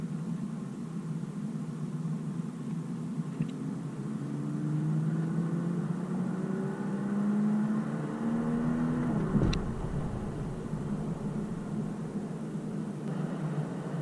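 A 2021 Toyota GR Supra 3.0 cruising in sixth gear on a highway, heard from inside as a steady low engine drone and road rumble, with engine pitch slowly rising then settling; no talking.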